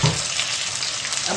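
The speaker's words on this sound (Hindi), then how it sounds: "प्याज फ्राई हो गए, ज़्यादा भी नहीं, सुरख नहीं करने। एक टमाटर वो डाल दिया।" Chopped onion and a tomato for desi saag sizzle loudly and steadily in oil in a pan, giving a dense, continuous crackle close by with no talking.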